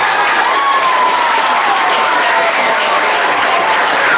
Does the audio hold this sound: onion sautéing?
no